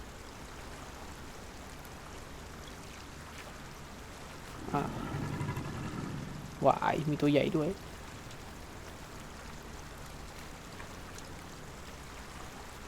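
A waterfall in the video game The Isle Evrima gives a steady, faint rushing hiss throughout, and someone talks over it in the middle.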